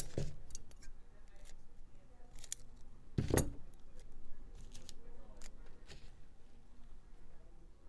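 Scissors snip tape off the end of a string while a bead keychain is made, several short sharp clicks and cuts near the mic, with one louder snip in the middle against quiet handling noise.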